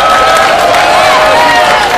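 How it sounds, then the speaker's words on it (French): A large crowd at the Montreal Global Marijuana March applauds a donor, with loud, dense clapping and cheering that continues without a break, close and full. "On lui donne une bonne main d'applaudissement."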